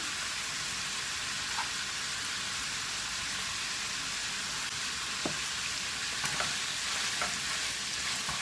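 Eggplant filling with onion and salt sizzles steadily in a pot while being stirred, a continuous close frying hiss broken by occasional light scrapes and clicks of the spoon.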